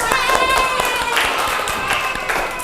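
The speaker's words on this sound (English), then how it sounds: "Give applause." Children in a classroom clap together in a brief burst of applause, fairly close and steady, with faint voices mixed in.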